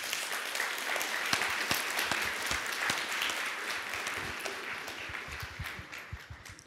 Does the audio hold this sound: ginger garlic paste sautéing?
no